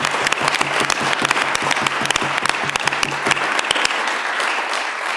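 Sustained audience applause at a school board of education meeting, a dense wash of many hands clapping at steady volume that thins out near the end with a few scattered claps.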